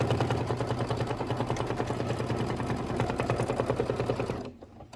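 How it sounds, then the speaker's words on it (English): A sewing machine stitches sprayed fabric pieces onto a Kimberbell Falling Into Autumn Scented Candles quilt block, running in a fast, steady, close whir before stopping near the end. "I think I'm going to sew these on"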